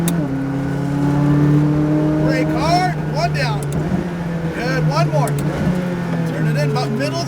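A McLaren 570 GT4 race car accelerates on a track, its engine droning loud and steady from inside the cabin with rising pitch sweeps through gear changes, while an instructor talks over it.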